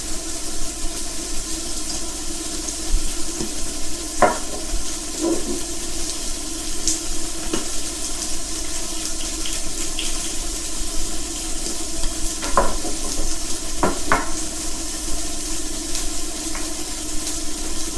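Onions frying in a pan for a Charolais burger, steady loud sizzle with occasional scraping stirs of a utensil against the pan, no talking.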